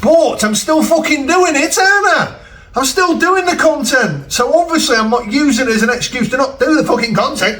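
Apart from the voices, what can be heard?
No everyday noise stands out behind the speech.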